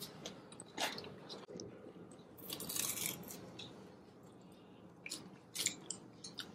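Close, quiet chewing and crunching of oily, buttery pizza cooked in a cast iron pan, with soft bites and wet mastication sounds recurring through the stretch, no talking.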